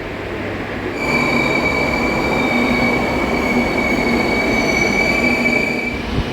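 A metro train in Kolkata rumbles steadily along the track, a constant loud roar with high squealing wheel tones ringing over it, no voices.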